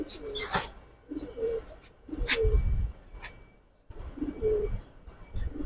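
Young pigeons in a loft coo in soft, low repeated bursts alongside scattered chirps and brief sharper calls, fairly close, with quiet pauses between phrases.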